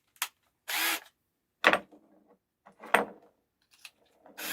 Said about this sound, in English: drill 2 holes at the top here